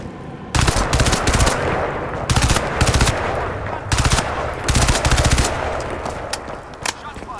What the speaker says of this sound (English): I think someone's on a machine gun over there.